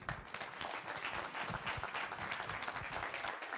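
An audience at a medical school white coat ceremony claps in sustained, dense applause that stays even throughout, loud and enveloping with no speech over it.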